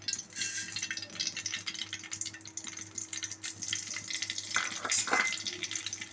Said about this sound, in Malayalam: അതിൽ കുറച്ച് വെളിച്ചെണ്ണ വീത്താം. ലേശം മതി. അതിലേക്ക് കടുകിടാം.